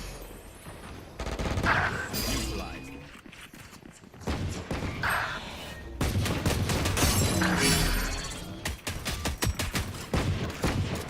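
Bursts of automatic gunfire and single shots ring out in a competitive Valorant match, loud and close, with footsteps and breaking sounds between volleys.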